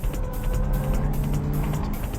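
A Hachiroku and a Subaru Impreza race on a downhill mountain pass, loud engines roaring steadily with tire noise as the cars drive past close by.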